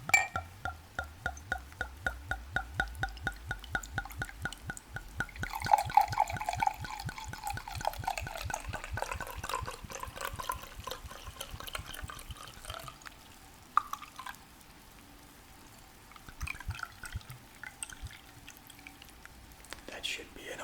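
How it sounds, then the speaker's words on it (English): Wine glugs and trickles as it is poured into a glass, close and intimate, the rhythmic gurgling slowing into a thin stream and fading to drips and soft movement. "And I will pour some in a glass."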